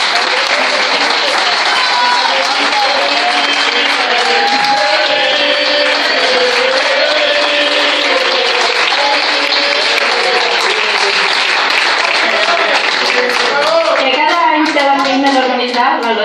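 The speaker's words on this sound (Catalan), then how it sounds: "Un aplaudiment, per favor." Loud, sustained applause from a large audience at a Barça supporters' club twentieth-anniversary celebration, filling the whole stretch with dense clapping and crowd noise and some voices mixed in.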